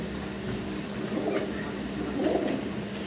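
Low, soft cooing from a pair of racing pigeons, two rounds of murmuring calls close by against a steady background hum.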